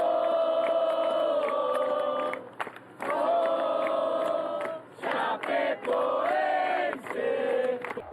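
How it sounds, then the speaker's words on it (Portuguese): Football supporters near Arena Condá in Chapecó sing in loud, sustained chorus as a funeral procession arrives, a dense crowd chant swelling in long phrases with brief dips between them. "o cortejo foi recebido pelo coro da torcida"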